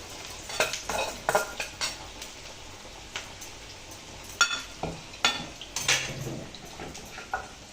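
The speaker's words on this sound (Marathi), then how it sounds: "बारका चमचा घे आणि थोडं थोडं हलव असं म्हणजे चिकटते ना जरा कढई लहान असल्यामुळं सुट्ट सुट्ट कर त्याला" Chicken 65 stirred with a small spoon in a small kadhai, a series of sharp scraping and clinking strokes in an irregular rhythm over a low sizzle, close by.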